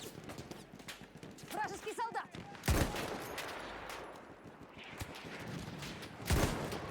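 Sniper rifle fire in Battlefield 1 on the Galicia operation map: two sharp, separated shots ring out over a busy battlefield din, with a few faint distant pops and scattered speech.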